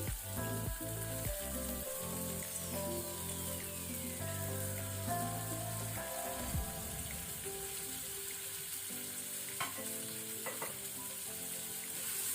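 Onions fry in oil with asafoetida for a raw jackfruit gravy, a dense, steady close sizzle like rain on a surface, with occasional clatters and scrapes of stirring and no talking.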